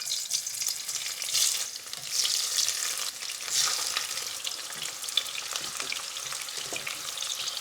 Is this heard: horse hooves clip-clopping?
no